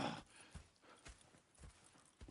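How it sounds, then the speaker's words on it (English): Horse hooves clopping in Red Dead Redemption 2, four evenly spaced soft thuds in a slow walking rhythm over quiet game ambience, fairly faint and with no voices. "Go check the horses are ready."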